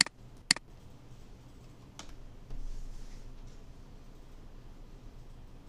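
Quiet computer mouse clicks in Mastercam: a few sharp, isolated taps near the start and one more a moment later, over faint room hiss.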